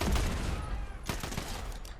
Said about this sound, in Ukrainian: Оп, хтось з ними вже стріляється, але хто?